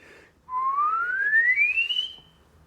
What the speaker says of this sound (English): That's essentially what we're doing here as we whistle.